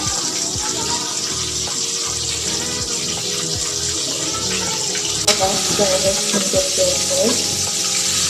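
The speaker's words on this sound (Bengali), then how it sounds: "তো ডুবন্ত তেলে ভাজার জন্য সবসময় চেষ্টা করি।" Brinjal slices deep frying in hot oil for a Bangladeshi home-style brinjal fry, a steady loud sizzle and bubbling throughout with some clattering and a voice speaking over it.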